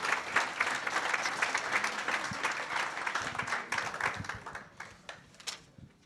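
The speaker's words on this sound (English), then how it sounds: "Round of applause, please." An audience at a community meeting applauds steadily with dense, continuous clapping that gradually thins out toward the end.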